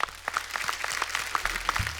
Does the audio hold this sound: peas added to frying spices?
no